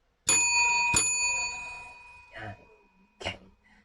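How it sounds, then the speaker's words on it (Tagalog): A handheld bell is struck twice, giving bright ringing tones that decay slowly, followed later by two softer knocks or coughs in a quiet room. "ring the bell."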